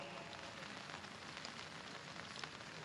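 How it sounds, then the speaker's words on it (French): Steady rain falls across Paris on a grey day, a dense, even hiss of drops pattering on surfaces, continuous and moderately quiet with no voices. "Comme aujourd'hui, il pleut interminablement"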